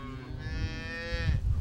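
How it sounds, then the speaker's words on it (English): A Highland cow, one of the old Scottish cattle breeds, lets out a single long, loud moo at a farm, rising and holding before trailing off, heard close and alone. "Highlands are thought to be one of the oldest cattle breeds in the world"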